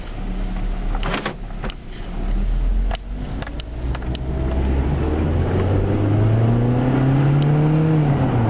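A small Ford Focus drives on a test drive, its engine droning steadily and rising in pitch as it accelerates, with a few clicks and knocks from the cabin early on; no one speaks.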